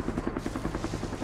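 A helicopter in a night-mode survival video game chops overhead with rapid, rhythmic rotor thumps, fairly faint and steady over a short moment.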